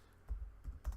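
Keys on a computer keyboard are struck in a short burst of soft, close clicks and thuds, a few taps in an uneven rhythm in a quiet room.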